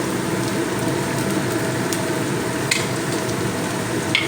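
Chopped beetroot and carrot frying in a pan for vegetable chop filling, a steady broadband sizzle with occasional sharp pops and crackles, close and continuous throughout.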